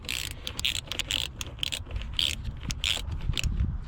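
Close ratchet clicks come in quick repeated strokes as a 5.5 socket tightens two hose clamps on a 2012 Honda Accord 2.4 engine, with short pauses between the bursts.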